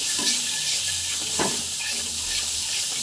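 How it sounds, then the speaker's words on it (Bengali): A spice paste and sattu mixture is stirred in a pan over a steady, close sizzle, with a few soft scraping strokes of the spoon; no voices. "ভালো করে নেড়ে চেড়ে নিচ্ছি"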